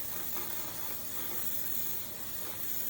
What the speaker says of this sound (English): So I spray my handy dandy cheap container from Walmart